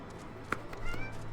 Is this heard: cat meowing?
yes